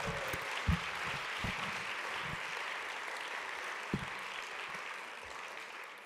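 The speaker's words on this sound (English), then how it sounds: "Give them another round of applause" Audience applause at a political party congress in Lyon, a diffuse wash of many hands clapping heard from a distance, fairly soft and steady, with a few louder thumps and no voices.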